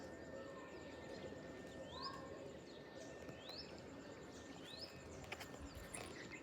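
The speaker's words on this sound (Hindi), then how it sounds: "तोते बोल रहे हैं।" Parrots call in short, sharp, rising chirps, three or four spaced over several seconds, fairly distant above a steady outdoor wash of insects and wind near a harvested wheat field in an Indian village.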